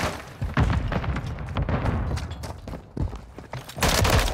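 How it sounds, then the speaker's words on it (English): Dense bursts of gunfire and heavy booms overlap in a Call of Duty: Modern Warfare III firefight, loud and continuous, with a stun grenade blast somewhere in the mix. "Grenade out! Stun grenade out!"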